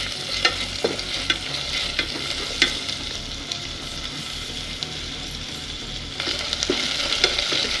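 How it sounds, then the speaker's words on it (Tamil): Onions sautéing with dried red chillies and curry leaves in a pan for carrot sambal, a continuous frying sizzle broken by scraping stirs and occasional clatters of the spoon. "வெங்காயம் நல்லா கோல்டன் ப்ரௌன் கலரில் வதங்கணும்."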